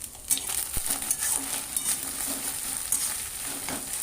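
Cumin seeds frying in hot oil in a pan, bright continuous sizzle with a few sharp metallic clinks and scrapes of a stirring spoon, close and fairly loud.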